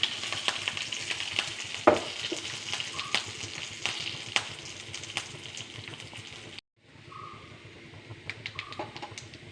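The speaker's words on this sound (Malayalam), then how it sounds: "കറിവേപ്പില ഇട്ടു നമുക്ക് അരപ്പിടാം" Curry leaves and ground paste sizzle steadily in a hot pan, a close crackling fry with scattered pops and stirring scrapes that cuts out briefly near the end before resuming.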